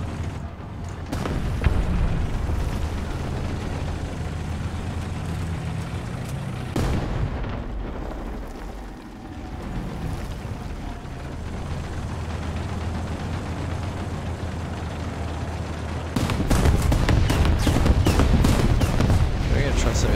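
Bursts of Panzer III M tank machine gun fire in a war video game, with continuous engine rumble behind, a pause partway through, and a louder rapid stream of rounds near the end.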